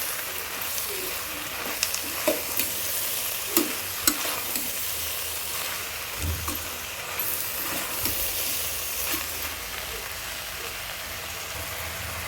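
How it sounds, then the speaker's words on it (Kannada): Tomatoes for a vegetable biryani fry in a pan with a steady, soft sizzle, while a spoon stirs and knocks against the pan at irregular intervals, quiet and close. "ಹಾಕ್ಕೊಂಡು ಚೆನ್ನಾಗಿ ಫ್ರೈ ಮಾಡ್ಕೊಳ್ಳೋಣ"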